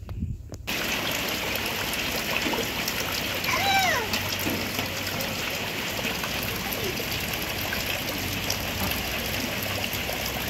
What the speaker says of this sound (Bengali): হঠাৎ করে মেঘ এসে বৃষ্টি শুরু হয়ে গেছে।